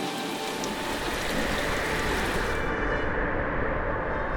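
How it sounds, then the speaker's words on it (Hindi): Steady, dense rain pouring down, a continuous broadband hiss of drops on surfaces, close and fairly loud with no voices. "रात होते होते बारिश शुरू हो गई"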